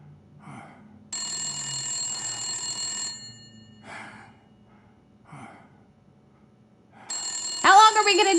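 An old-style telephone bell rings in two long bursts, loud and close, separated by short gaps holding breathy sighs and brief voice sounds, ending in a harsh louder burst.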